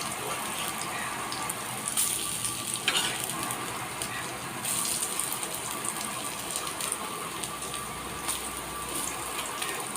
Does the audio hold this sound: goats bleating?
no